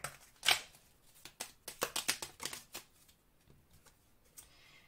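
Oracle message cards are shuffled by hand close by, a quick run of soft riffling flutters and slaps, then quieter handling.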